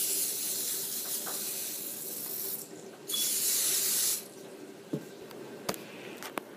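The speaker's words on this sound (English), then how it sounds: "I'm going to spray it with butter spray." Butter spray is spritzed onto a baking pan for peanut butter cookies in an Easy-Bake Oven, close and loud, with a long hissing burst, a pause, then a shorter sharp burst followed by a few faint clicks and taps.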